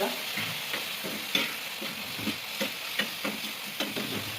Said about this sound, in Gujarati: ગેસ ધીમો કરી થોડું મિક્સ કરી દેવાનું.